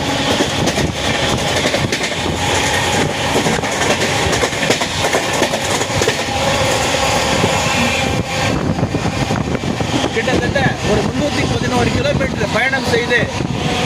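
A passenger train on the Trichy-to-Tambaram line rolls along the rails about a kilometre from Tambaram station, with a loud continuous rumble and wheel clatter heard from inside the carriage, briefly easing partway through.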